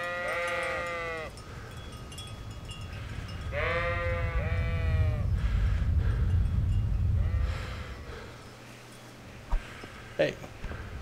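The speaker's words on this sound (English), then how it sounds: "sheeps." Sheep in the game Kingdom Come: Deliverance bleat twice, each a wavering nasal call, the second longer, over a low ambient rumble with faint clatter near the end.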